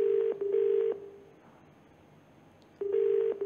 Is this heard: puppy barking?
no